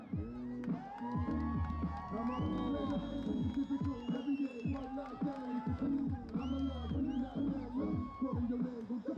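Spectators at a Salt Lake Senate versus Arizona football game cheer and shout, a lively crowd of whoops and hollering voices rising and falling without pause.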